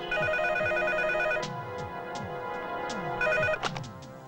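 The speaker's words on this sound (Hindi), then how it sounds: "डैडी, टोनी का फोन है।" An electronic phone ringtone trills in repeated bursts with a brief pause between them, fairly close and clear, with no talking.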